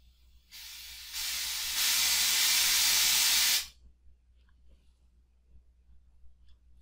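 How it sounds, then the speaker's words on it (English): Speaker calibration noise from audiometry software: a loud broadband hiss that switches on, steps up in level twice, holds steady for about three seconds, then cuts off abruptly, leaving quiet room tone. "When you click start, you will hear the calibration noise."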